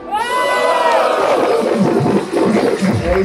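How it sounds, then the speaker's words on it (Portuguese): Crowd at a Brazilian street rap battle erupting in cheers, shouts and applause, a loud, continuous roar of voices and clapping that holds steady for the whole stretch. "Palmas"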